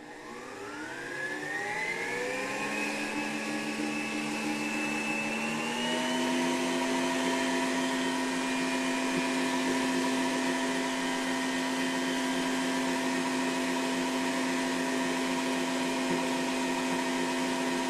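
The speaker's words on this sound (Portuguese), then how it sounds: "para tudo ficar bem misturadinho aqui na minha batedeira." Stand mixer beating cake batter in its bowl, a steady loud whirring motor hum that climbs in pitch over the first seconds, then holds an even drone alone to the end.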